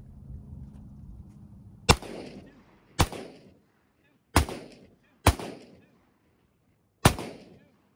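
Five loud, close pistol shots at a shooting class, sharp single cracks spaced unevenly about a second apart, each with a short echoing tail, and a low murmur before the first.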